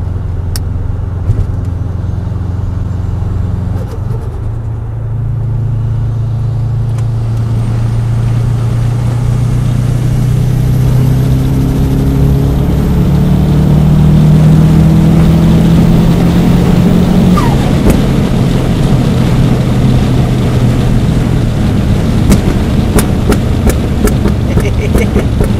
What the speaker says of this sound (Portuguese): agora vou curtir um bocadito aqui de Subaru. Ligar o anti-lag